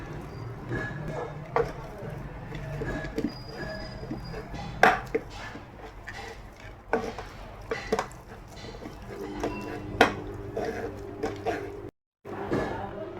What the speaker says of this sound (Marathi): हे बघा, असं गिलासानं दाबायचं आणि बारीक करून घ्यायचं आहे.